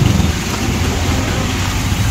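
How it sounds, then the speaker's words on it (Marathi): Heavy rain pours down in Panvel while floodwater from an overflowing lake rushes nearby, forming a dense, unbroken roar of rain and water noise without speech. "खतरनाक पाऊस"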